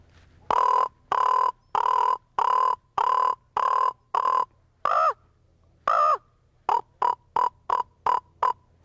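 A human voice imitates a common raven, giving a loud series of harsh croaking caws: a run of evenly spaced calls, a short pause, then a quicker burst of shorter calls, close up with no other voices.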